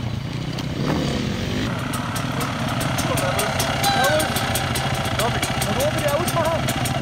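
An enduro motorcycle engine idles steadily close by at an ADAC enduro race, a low continuous rumble with faint voices and a few rhythmic clicks over it.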